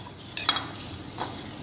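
Spoon stirring warm water and sugar in a bowl for bread dough, with two quick scraping clinks close by over a quiet background.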